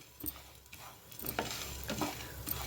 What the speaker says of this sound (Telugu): ధనియాలు వేసుకోవాలి వన్ టీ స్పూన్ జీలకర్ర హాఫ్ టీ స్పూన్ మిరియాలు వేసుకోవాలండి ఇవి కూడా కాస్త దూరగా ఫ్రై చేసుకోవాలి